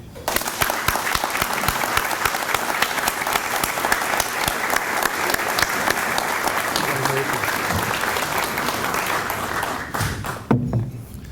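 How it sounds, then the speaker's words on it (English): A ceremony audience applauds an award recipient at a university homecoming prize presentation, a dense, steady wash of many hands clapping that holds for about ten seconds before tapering off, with a few voices near the end. "Would you please help me recognize our second recipient and applaud Professor Frank"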